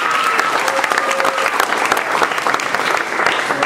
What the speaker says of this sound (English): Big round of applause for this brave young man.